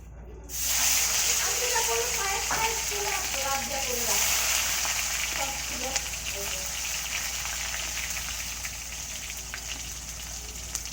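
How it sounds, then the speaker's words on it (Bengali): Cumin seeds and tomato sizzle and crackle steadily in hot oil, a continuous hiss with scattered pops, fairly close and without much else around. "তেলের উপর জিরে ফোড়ন দিয়ে দিয়েছে, এরপর দিবে টমেটো।"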